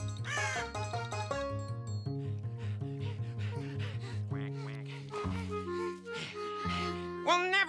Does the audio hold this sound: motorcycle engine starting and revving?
no